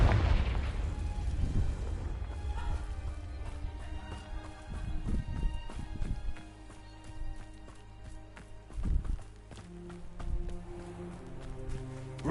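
Confringo blasting spell explosions in the video game Hogwarts Legacy: a heavy booming blast opens, then several more deep thuds and bursts follow at irregular intervals, loud and close, with game effects ringing between them.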